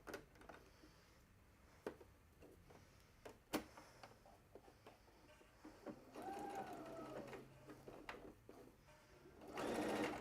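A sewing machine stitches a winter aviator hat with white thread in short, close runs of rapid mechanical whirring, broken by pauses and small clicks, with a louder burst near the end.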